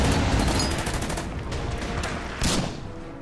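Dense gunfire crackles without a break in the World War II strategy game Order of Battle: Panzerkrieg, with rapid overlapping shots and a heavier burst near the end.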